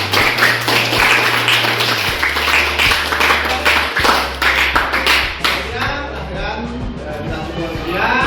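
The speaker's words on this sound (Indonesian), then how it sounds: "tepuk tangan untuk kalian semua" A class group clapping hands together in a classroom, loud rhythmic claps over a steady low hum and music, with voices chattering throughout and the clapping thinning toward the end.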